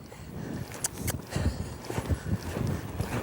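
Horse hooves clip-clop steadily around a pen as a big, strong young horse lopes on the correct lead, the dull thuds close and regular over faint background noise.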